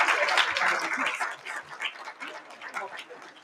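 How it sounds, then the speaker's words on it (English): Audience at a NIME 2025 town hall plenary claps for an award-winning paper, a loose, fading round of applause with a voice speaking over it. "Let's give it a round of applause."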